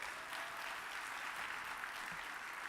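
Faint, even applause from a luncheon crowd at an annual meeting's plenary session, honouring the mayor of Chicago: a soft, continuous patter of many hands with no voices over it.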